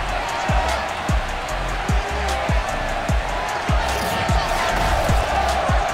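A sold-out stadium crowd roars in Madden 22 at a Bills home game against the Washington Football Team in the rain, a loud, constant wash of cheering with a steady beat of low thumps under it.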